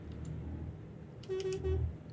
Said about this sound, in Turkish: Bu korna güzel tamam otobüs kornası.